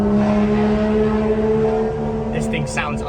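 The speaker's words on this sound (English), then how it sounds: "This thing sounds unreal at high revs." A manual BMW 235 engine holds a steady, loud high-rev drone with strong harmonic tones throughout, joined near the end by brief whistling or tyre-like chirps.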